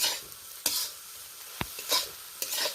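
Spicy semolina (suji) stirred in a pan, with dry scraping strokes of a spatula against the metal coming in irregular bursts, close and fairly quiet, with no voices.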